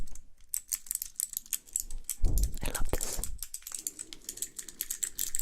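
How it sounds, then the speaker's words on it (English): Keycaps on a handheld ASMR trigger device tapped rapidly and closely, producing dense, crisp clicking in irregular bursts, with a short whispered remark partway through. "On each side, it simply has a keyboard, like a keycap, on each side."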